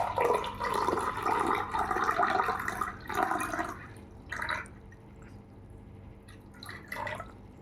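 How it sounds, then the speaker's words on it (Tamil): RO water splashes and pours into a container in uneven bursts for hatching brine shrimp, with short gurgling pours separated by quieter gaps and a few drips. "தேவையான அளவுக்கு தண்ணி ஊற்றிட்டு"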